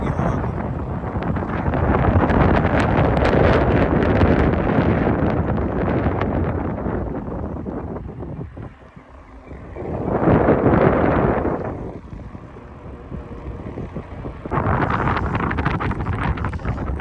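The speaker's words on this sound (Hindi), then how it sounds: "हवा चल रही है, आवाज़ भी आ रही होगी हवा की।" Wind blowing across open farmland in Rajasthan, buffeting the microphone in loud, rough gusts. The roar surges, drops to a lull, then rises again in waves, with no voices heard.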